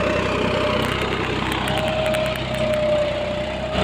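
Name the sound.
tractor engine running while ploughing a field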